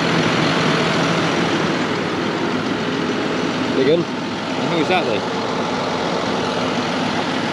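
A tractor pulls a mower through a second-cut hay field, its engine a loud, steady close-up drone that holds through the whole clip while someone speaks briefly over it.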